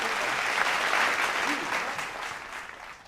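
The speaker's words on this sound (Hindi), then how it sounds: "एक बार तालियां बजा दीजिए" Applause from a live audience at a Hindi comedy or satire stage show, a dense sustained wash of clapping for about three seconds that fades slightly toward the end.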